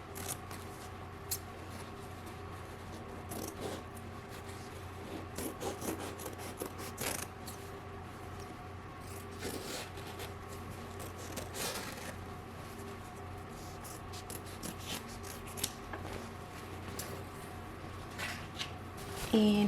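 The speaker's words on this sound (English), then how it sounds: "just cut it from the fabric" Scissors snip glitter heat-transfer vinyl away from embroidered fabric in a quiet, close series of irregular cuts and rustles, with faint low background hum throughout.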